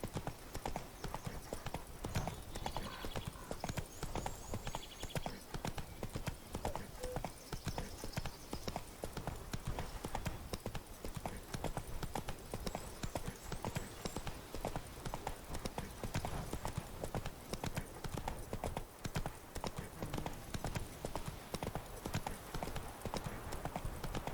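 Horse hooves galloping steadily in The Witcher 3: Wild Hunt on PC, a fast continuous clip-clop rhythm running the whole stretch, loud and close, with a brief faint whinny.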